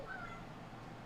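A fluffy long-haired cat gives a single short meow, quiet and close, in an indoor room with faint background hum.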